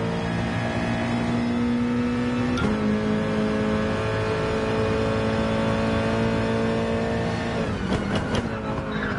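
A race car engine in a racing video game holds a loud sustained drone, shifting abruptly around the two-second mark and again near the end as it climbs and drops through gears, with no talk.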